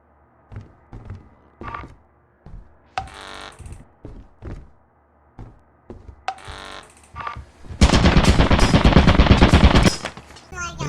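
Turret gunfire in the video game Lethal Company: scattered single thunks and short bursts lead into a loud, sustained machine-gun barrage of rapid shots lasting several seconds near the end.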